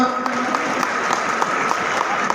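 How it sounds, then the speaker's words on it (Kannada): An audience at an award ceremony for accident-free drivers bursts into steady, dense applause, a close, continuous clatter of many hands. "ಚಪ್ಪಾಳೆಯೊಂದಿಗೆ ಅಭಿನಂದನೆಯನ್ನು ಸಲ್ಲಿಸೋಣ"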